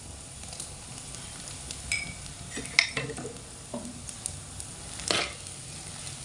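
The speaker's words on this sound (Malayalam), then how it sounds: "ഇനി ഇതിലേക്ക് ചതച്ച് വെച്ചിരിക്കുന്ന വെളുത്തുള്ളിയും ഇഞ്ചിയും ചേർത്ത് കൊടുക്കാം" Crushed garlic and ginger hiss and sizzle in hot oil in a pan, with a few sharp scrapes and clinks of a spoon stirring at close range; no one speaks.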